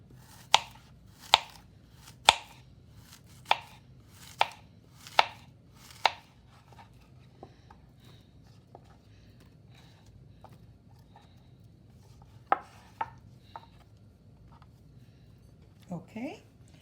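A knife chops plantain into small pieces for Jamaican cornmeal porridge: seven crisp, evenly spaced chops come first, then a few scattered lighter taps and knocks, close to the microphone.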